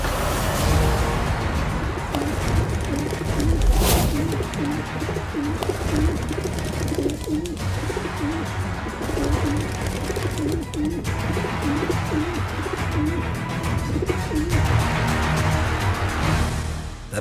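Pigeons coo in repeated soft, throaty, rising-and-falling calls, close and continuous over a dense background wash, with no talking.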